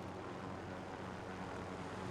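A helicopter in the video game Call of Duty Warzone gives off a steady, dense engine and rotor drone, loud and unbroken, with no talking.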